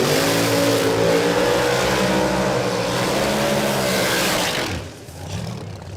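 A no-prep drag racing car with forced induction revs hard at Warwick Dragway, a loud, sustained engine roar with rising and falling pitch that cuts off abruptly near the end, followed by quieter rumbling.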